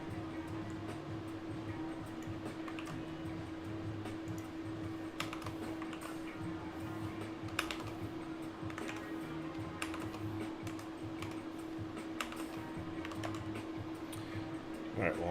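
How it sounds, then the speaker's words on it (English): Continuous typing on a computer keyboard with irregular key clicks and occasional louder strikes, set over a steady low hum for a long stretch. "I'm typing that stuff in."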